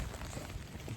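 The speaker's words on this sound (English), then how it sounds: "Well, you know it was gonna like legit rain." Steady rain falls on the ground around people walking outdoors in 50-degree weather, a continuous close hiss of drops with no voices over it.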